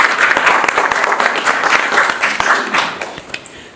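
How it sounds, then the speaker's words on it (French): Audience applause at an awards ceremony honouring an entrepreneurs' network, with dense, fairly loud clapping from many people that carries steadily throughout and tapers slightly near the end. "Rama, on peut applaudir."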